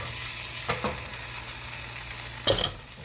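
Sausage fries in a pan with butter, giving a constant soft sizzle close by. A few louder clatters and scrapes from stirring break in, and no voices are heard.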